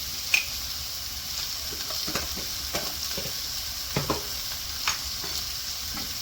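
White bitter gourd pickle stirred in a pan after salt is added: a steady soft sizzle with a spoon scraping and clicking against the pan every so often, close up and without talk.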